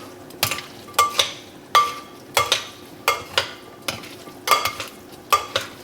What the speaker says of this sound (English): Just go right into the bowl with it and give it a mix